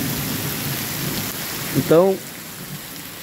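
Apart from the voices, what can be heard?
heavy rain and thunder in Guajará-Mirim, Rondônia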